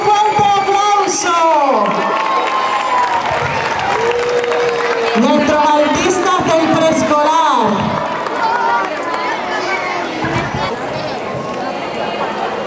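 Audience at a 2010 Colegio Santa Clara school pageant claps and cheers steadily as pre-kindergarten, kindergarten and first-grade children are welcomed, with crowd babble and voices mixed throughout.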